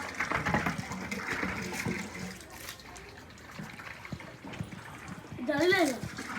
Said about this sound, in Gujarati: તો ગાઈસ પાણી ભરી દીધું છે